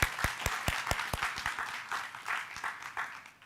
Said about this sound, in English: let's give all of you a big round of applause